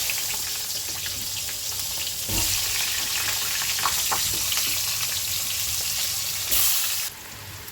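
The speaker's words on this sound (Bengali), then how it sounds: "আলু, কোয়াশটা আর পেঁয়াজটা ভাজা ভাজা হয়ে গেছে" Potato, squash and onion fry in hot oil, spiced with cumin and garam masala, giving a loud, steady close sizzle with bursts of crackling and brief stirring clatters.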